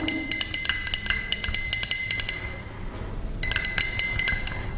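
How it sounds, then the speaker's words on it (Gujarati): Rapid glassy clinks and tinkles, a glass rod tapping the inside of a glass beaker as it stirs salt into water, with a short pause before the clinking resumes. "સળિયા વડે આપણે હલાવશું."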